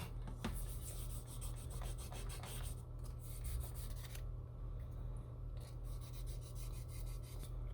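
Sandpaper is rubbed by hand over hard lacquer on an Edsel car body, making soft, rhythmic scratchy strokes that are close and quiet over a low steady shop hum.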